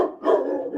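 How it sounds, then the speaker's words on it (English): A single deep, loud bark from Buddy, a 145-pound dog, close by and abrupt, stretching into a brief throaty drawn-out tone. "I got a 145-pound monster of a dog"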